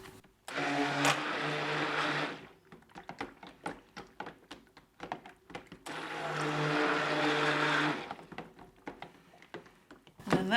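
A stick blender mixes soap in a container in two loud whirring bursts of about two seconds each, separated by knocking and tapping as the blender is handled.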